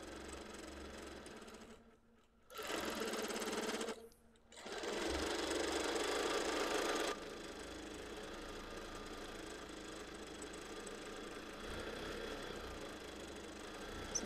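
A sewing machine free-motion quilts a wholecloth baby quilt, its close mechanical hum and rapid needle stitching running in bursts with two brief stops, while a voice talks throughout.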